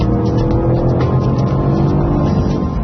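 A 2013 Range Rover Sport with a 5-litre supercharged V8 accelerating hard, its loud, steady engine roar filling the whole stretch without a break.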